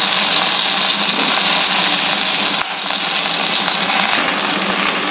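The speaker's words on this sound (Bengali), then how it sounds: "তেলটা প্রচণ্ড গরম হয়ে গেছিল, ওই জন্য আমি আগে ভেন্ডিগুলো একটু ছেড়ে দিলাম।" Okra sizzles in very hot frying oil, a loud, steady close-up hiss and crackle that runs continuously with a brief dip partway through.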